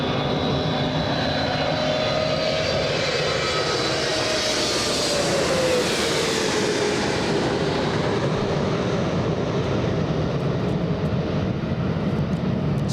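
An airliner taking off at Los Angeles International Airport, a loud sustained engine roar that swells and sweeps through a rising then falling whine over about thirteen seconds, heard alone without talk.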